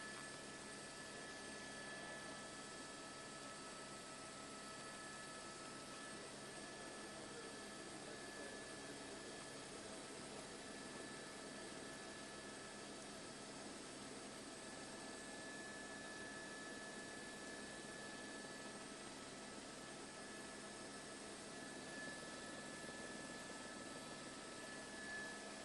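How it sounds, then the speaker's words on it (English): A steady, even engine drone hums throughout, a constant roar from a sheriff's helicopter flying low, a couple of hundred feet over the Los Angeles River, with no talking. "you're going to be able to see an LA County Sheriff's helicopter right over the LA River"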